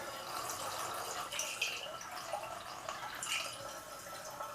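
Collected yeast slurry from home brewing is poured into a container, giving a soft, continuous liquid trickle with small splashes and drips, faint and steady with no talk.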